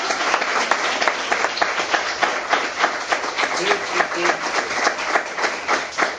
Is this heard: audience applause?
yes